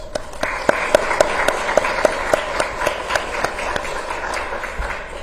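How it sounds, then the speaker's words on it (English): A small audience at a city candidates forum claps steadily, close and fairly loud, with distinct sharp hand claps standing out in an even rhythm. "All right, just give him a round of applause"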